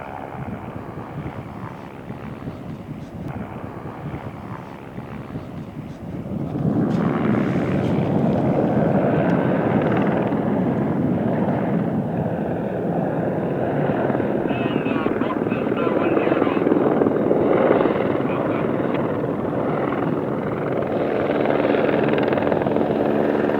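A helicopter approaches, its rotor thump and whine faint at first, then swelling abruptly louder and staying loud and close as wind buffets the microphone.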